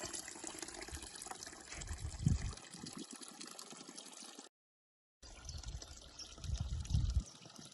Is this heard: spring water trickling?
yes